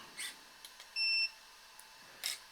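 A single short electronic beep from an Arrma Mini Kraton RC car's electronics, clear and close, with faint clicks before and after in an otherwise quiet room.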